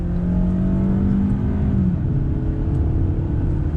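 A 2019 Hyundai Santa Fe SUV accelerating under throttle, heard from inside as a loud, steady engine drone with a low rising tone that shifts partway through as the gearbox changes, alone without speech.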